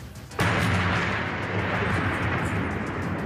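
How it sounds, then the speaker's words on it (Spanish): A fierce, huge explosion in news footage sets off a sudden broadband blast, then a loud, sustained roar and rumble that keeps going for several seconds with no voices over it. "Otra feroz explosión, gigantesca explosión."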